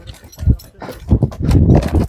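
Horse hooves thud close and loud during an ulak (goat-dragging horseback) game, with irregular clustered stamps and scuffles mixed with faint voices.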